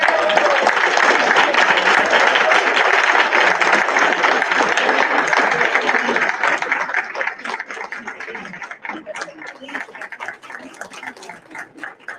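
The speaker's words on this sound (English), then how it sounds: "Let's give them a round of applause as they walk in." Audience applause at a school board workshop and spring student recognition as students walk in, a dense, steady clapping that holds strong for several seconds, then thins out and grows more scattered toward the end.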